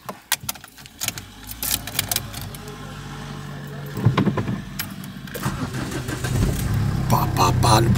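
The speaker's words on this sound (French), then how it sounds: "On va démarrer le W12." A W12 car engine cranks and catches with a burst of noise, then settles into a steady, fairly loud idle that rises again near the end, with some voices and handling sounds over it.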